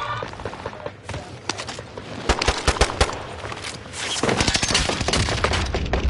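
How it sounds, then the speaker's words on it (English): Gunfire rattles in a Call of Duty multiplayer match as loud, rapid bursts of automatic shots, some overlapping, mixed with game footsteps and scattered smaller sounds. "I'm sure he just walked around my gunfire."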